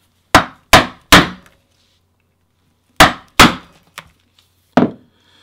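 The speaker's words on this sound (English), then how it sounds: "To make washers, I just use a half inch punch" Seven sharp hammer blows on a giant half inch leather punch cutting washers from leather, arriving in a quick group of three, then two, then two more spaced strikes, close and loud with no talk.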